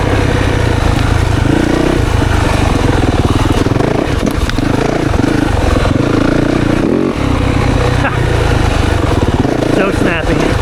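A 2024 Yamaha YZ 450FX dirt bike rides through woods, its four-stroke engine loud and close throughout with revving and gear changes under clattering.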